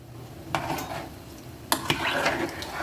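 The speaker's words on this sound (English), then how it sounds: "Let me get this spoon. Stir it." A spoon stirs rice and broth in a cooking pot, scraping and clinking against the metal sides in a few sharp knocks amid a soft, continuous swishing.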